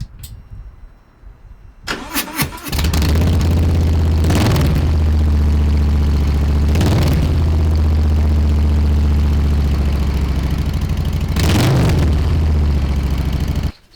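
A Harley-Davidson Heritage Deluxe motorcycle engine cranks over and fires up, then settles into a loud, steady, close-up idle with a deep rhythmic throb, interrupted by a few brief throttle blips before cutting off.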